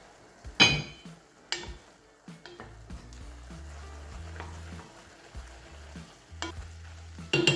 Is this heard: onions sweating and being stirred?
yes